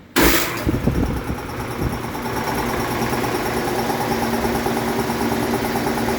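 A Saylor-Beall air compressor starts abruptly with a loud mechanical clatter, then settles into a steady, even running drone with its cooling fan turning, close and continuous without speech.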